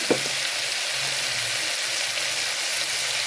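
Vegetables and capsicum frying in a pan for brown rice pulao, a steady close sizzle with broadband hiss throughout and a brief clink near the start, no talking.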